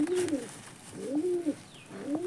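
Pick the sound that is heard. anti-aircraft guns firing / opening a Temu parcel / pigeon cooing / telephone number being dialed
pigeon cooing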